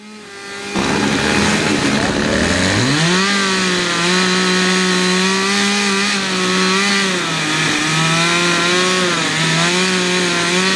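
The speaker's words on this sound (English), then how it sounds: "The chainsaw carving competition is also a popular event" A chainsaw roars steadily and loudly at close range while carving wood at a festival carving competition, its engine pitch wavering slightly as it bites into the wood, continuing without a break.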